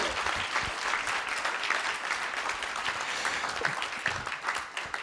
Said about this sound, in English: Let's give them a round of applause tonight.